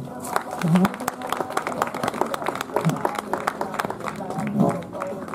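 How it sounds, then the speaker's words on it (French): Scattered applause at a carousel riding show greets a rider on her horse. Light, uneven hand claps run throughout at moderate volume, with voices murmuring underneath. "On peut l'applaudir."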